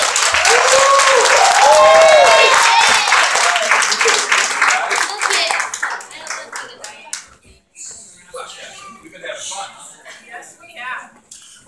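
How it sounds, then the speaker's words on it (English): A church congregation claps together loudly and steadily for several seconds to welcome a visiting family. The clapping then tapers off into scattered claps and quiet talk. "So let's all clap happy for the Jeffers today."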